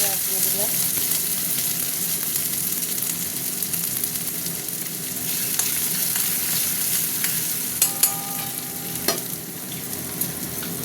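Onions dropped into hot oil with two dried red chillies and two bay leaves, sizzling loudly and continuously at close range, with occasional stirring clicks and scrapes toward the end.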